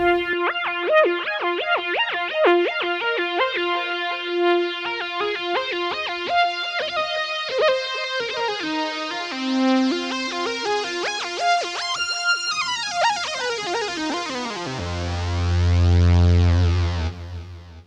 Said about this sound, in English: Here's another lead sound based on that same idea, just different waveforms.